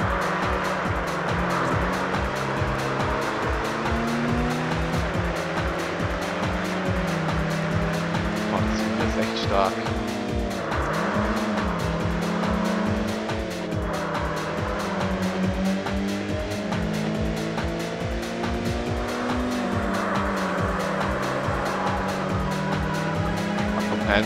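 Race car in the Group S Challenge racing video game, its engine revving hard in repeated rising and falling pulls with gear shifts and intermittent tire squeal, loud and continuous for the whole stretch.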